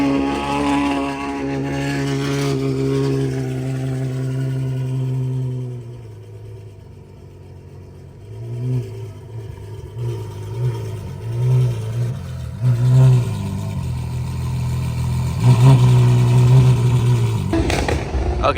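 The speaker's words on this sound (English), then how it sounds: "Okay, so this 812 just started up, and it's insanely loud." A Ferrari 812 supercar's V12 just after a cold start at the 2023 Dania Pointe car show, loud and close, with a steady high idle that drops, then sharp revs climbing and surging toward the end.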